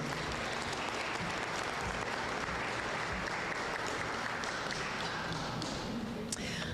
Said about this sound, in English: So big round of applause for those teams.